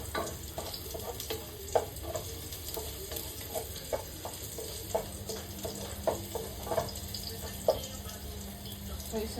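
Garlic sautéing in a pan for chicken feet adobo, a steady close sizzle and frying hiss with intermittent scrapes and taps of a spatula.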